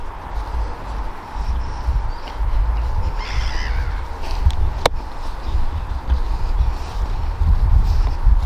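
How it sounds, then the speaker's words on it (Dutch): Many sea birds, including seagulls, call outdoors, with a few squawks rising above a steady, fairly loud wash of wind and background noise. "Er zijn heel veel vogeltjes zo te zien,"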